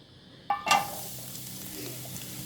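Finely chopped onions dropped into a pan with a tablespoon of oil for ring samosa filling: a sharp clink and burst of sizzle, then a soft, steady frying hiss that settles and fades, with no talking.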